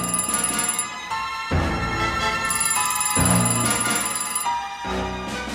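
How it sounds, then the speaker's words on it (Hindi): A phone rings in repeated bursts of bright electronic bell tones, each ring lasting about a second or more with short gaps between, clear and alone. "हर रात ठीक 12 बजे उसके फोन की घंटी बजती थी"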